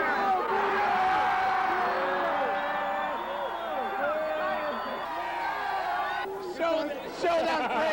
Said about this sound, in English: I'll never forget the crowd at Hancock Airport that greeted the team.